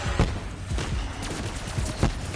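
Fireworks-like explosions in the Call of Duty zombies map Der Eisendrache sound as a dense, continuous crackling barrage with several sharper pops, a steady rattling blast at moderate volume and no talking.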